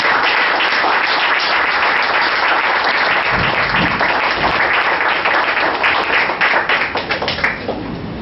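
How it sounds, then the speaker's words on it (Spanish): Close, loud applause from a conference audience for a speaker, dense clapping that continues steadily and thins slightly toward the end. "sin más le pido nuevamente un aplauso"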